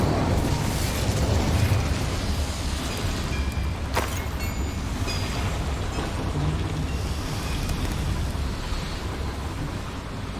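A fire spell blast rumbles through a mine setting in the Hogwarts Legacy video game, a loud sustained roar with a sharp burst near the middle, dense crackling noise throughout and no talking.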